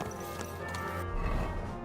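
A horse in a video game trots with quick, rhythmic clip-clopping hooves, fairly close and loud, joined by a brief heavier clatter near the end and no voices.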